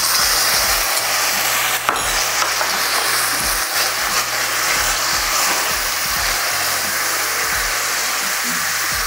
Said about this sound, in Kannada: ಈ ಟೈಮಲ್ಲಿ ಇದಕ್ಕೆ 1 ಚಮಚದಷ್ಟು ನೀರನ್ನು ಹಾಕಿ